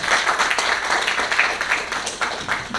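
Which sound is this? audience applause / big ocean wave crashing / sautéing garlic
audience applause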